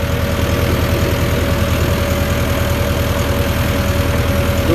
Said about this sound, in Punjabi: ਕਾਈ ਦਾ ਆਪਾਂ ਹਲ ਮਾਰ ਰਹੇ ਹਾਂ ਜੀ ਹੁਣ